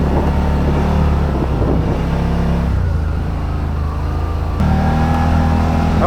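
A Yamaha Rmax side-by-side's engine revs hard and steadily while driving, a loud, sustained mid-pitched drone that shifts pitch partway through and climbs again near the end.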